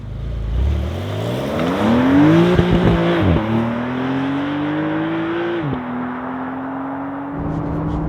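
A Porsche 911 Carrera 992.2 pulls away on the road, its engine climbing through the revs with crisp gear changes and then settling to a steady cruise, loud and close with no talk.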